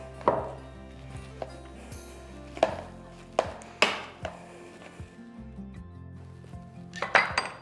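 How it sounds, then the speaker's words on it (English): Boiled potatoes being mashed in a pot, with a handful of sharp knocking and clinking impacts at irregular intervals as the masher hits the pot, close and moderately loud, with no voices. "And you're going to keep mashing."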